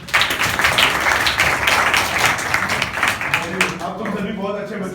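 A room of schoolchildren at a village school claps loudly in a dense burst that thins out after a few seconds, and someone speaks as the clapping dies away.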